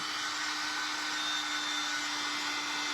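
A hair dryer runs continuously at close range to dry a whitewashed bottle, a steady whirring blow with a constant motor hum and no voices.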